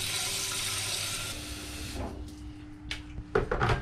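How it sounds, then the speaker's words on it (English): A kettle being filled with water from a tap: a steady rushing hiss of running water that tapers off, followed by a few soft clunks and knocks nearby. "Fill it up with some water."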